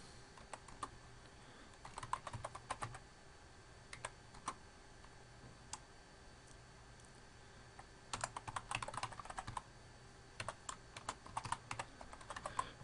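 Keys clatter on a computer keyboard in quick bursts while a username and password are entered during a web sign-up, with pauses between flurries of typing against a quiet room hum.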